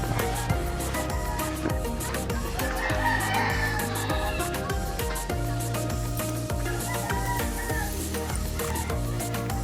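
Chickens cluck and a rooster crows amid a busy, noisy background on a farm in Payatas, Quezon City, with steady bird calls close by throughout.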